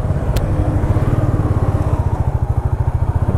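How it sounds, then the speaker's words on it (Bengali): A Royal Enfield Meteor 350 motorcycle is ridden close by, its single-cylinder engine thumping in a loud, rapid, even pulse under steady wind rush. "ফার্স্ট টাইম আমি চালাচ্ছি মেটিওর"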